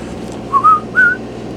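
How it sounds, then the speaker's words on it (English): A short whistled TV theme tune on a bus, a few rising clear notes in two quick phrases, close and alone over faint background hum. "they just wake up to the whistle"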